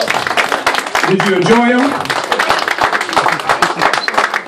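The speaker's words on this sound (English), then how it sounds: "Let's give a round of applause to all the other comedians that you heard." Audience applause fills a comedy show room: steady clapping runs throughout under a host speaking over a microphone, with cheering voices mixed in.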